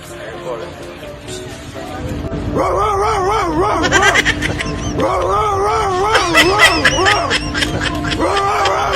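Inside a passenger bus, a big dog gives loud, drawn-out howling barks in repeated bursts, near and dominant, while people talk and react around it.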